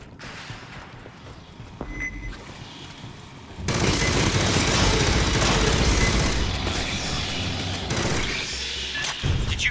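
Quiet game ambience in Aliens: Fireteam gives way to a loud, continuous barrage of gunfire and explosions that rumbles on for several seconds.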